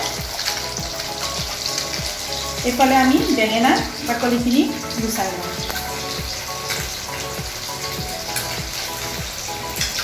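Fish fries in a pan of hot oil with a continuous loud crackling sizzle that runs the whole time, while someone talks over it.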